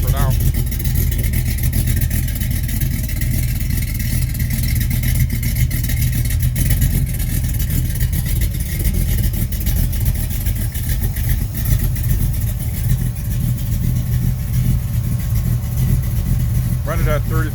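A rebuilt 360 V8 with a 750 carburetor, 596 heads and a 480/480 cam runs steadily close up, its loud, rough idle rumbling continuously with a slight rich lope.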